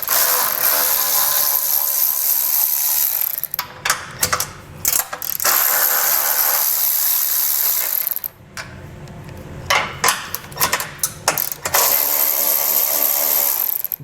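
Ratchet wrench rapidly clicking as 13mm bolts come off the bumper of a 2022 Chevrolet, long loud bursts of ratcheting broken by short pauses, metallic clinks and the fastener loosening, close up with no talking.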